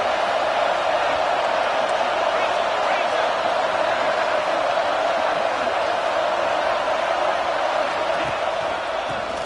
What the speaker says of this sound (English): This crowd even louder now on second down as they try to hold on.